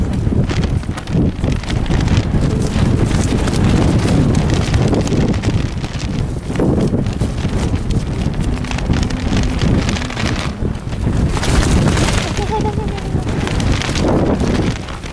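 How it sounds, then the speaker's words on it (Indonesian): Strong, gusting wind roars and buffets the microphone continuously during a fishing trip, with people talking faintly beneath the rush. "Anginnya nggak mau kompromi bosku. Anginnya sangat kencang."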